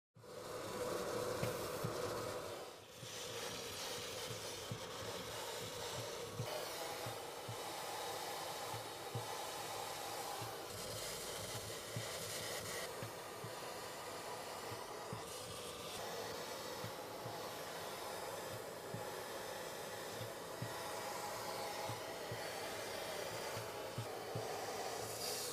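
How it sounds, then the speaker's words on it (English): A vacuum cleaner draws loose powder off a 3D-printed figure, a loud, steady hissing roar that runs the whole time, with a short dip near the start as the nozzle moves. "And when it's very dry, we can start hoovering."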